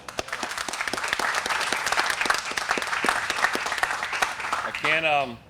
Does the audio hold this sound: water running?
no